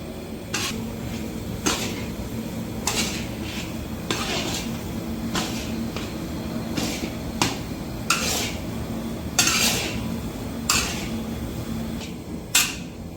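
Roasted chana stirred in a pan over a low flame, a steady dry rattling and scraping with regular metallic clinks of a spoon against the pan, close and continuous with no talk.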